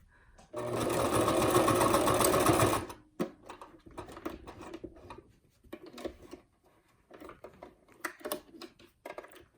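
A sewing machine stitches a face mask with interfacing and a nose wire, running in one close, steady, rapid whir for about two seconds, followed by scattered soft clicks and fabric handling.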